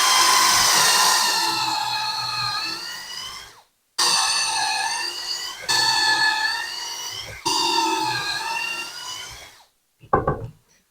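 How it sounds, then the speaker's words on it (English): A power drill bores pocket holes in black walnut for a rustic live edge window frame, whining loudly in three long bursts with brief pauses between, followed by a short clatter near the end. "So we're going to go ahead and start drilling. I need 4 pocket holes in this piece here."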